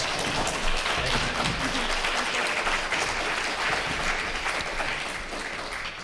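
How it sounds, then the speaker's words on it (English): A crowd at a Kamloops candidates debate for the 2024 BC election applauds the candidates, a continuous thick patter of many hands clapping at fairly close range that tapers slightly toward the end. "I'd like everybody to give our round of applause to Maddie Genn and Tristan Cavers."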